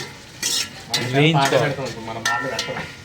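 A spoon scrapes and stirs fish curry ingredients around a pan on low heat, a few distinct close strokes with clinks and a soft sizzle between them.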